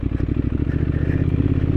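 A scrambler motorcycle putters along an off-road shortcut near Kibber in Spiti Valley, its engine thumping in a close, steady rhythm with rattling clatter from the rough track.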